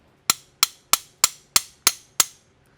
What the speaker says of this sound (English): Brass hammer, and I'm just love tapping it.